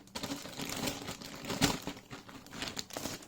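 Plastic packaging crinkling while an HP Pavilion Gaming 15 laptop is unboxed, quiet close-up rustles and crackles in irregular bursts with a sharper crunch midway.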